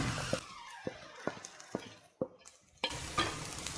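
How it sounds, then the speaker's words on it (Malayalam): Ground spices including turmeric, garam masala, coriander, chilli and cumin powder are stirred in a hot frying pan: soft sizzling under about six sharp, evenly spaced spatula scrapes against the pan, close up. "നമുക്ക് നന്നായിട്ട് ഈ മസാലകളൊന്ന് യോജിപ്പിച്ചു കൊടുക്കാം"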